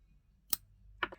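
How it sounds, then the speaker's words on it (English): Two quick snips of scissors cutting yarn at the end of a small crocheted witch hat, close and crisp against a quiet room, the second cut slightly doubled. "Now just cut the yarn."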